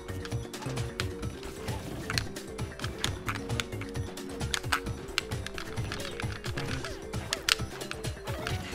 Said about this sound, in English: You can hear my controller just clicking and clacking.